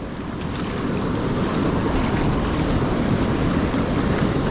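Rushing water from a river outflow surges around a kayak, a steady broadband wash with heavy wind buffeting on the mic and no talking.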